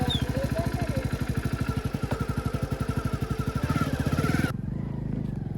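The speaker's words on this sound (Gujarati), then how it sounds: "બાઈક ચાવી કરી દીધી." Motorcycle engine running close by, a rapid even putter of firing pulses that stops abruptly, leaving quieter background hum.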